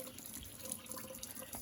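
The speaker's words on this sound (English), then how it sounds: "you just put water in it" Water from a tap runs steadily into a bowl of cornmeal for Southern fried cornbread, a soft, continuous trickling and splashing close by with no one speaking.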